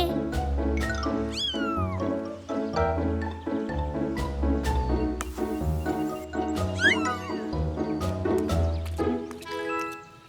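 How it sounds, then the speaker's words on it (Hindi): Cartoon kittens give repeated high, rising and falling meows over constant upbeat background music, with several cries scattered throughout. "मॉर्फल को बिल्ली के बच्चे मिले"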